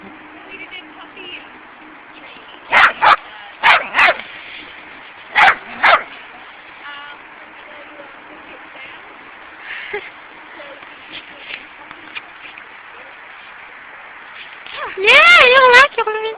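A puppy at a small dog run in Riverside Park, New York, during a snowstorm. It gives a few sharp, close barks in quick pairs, then a whining whimper near the end, with people talking throughout.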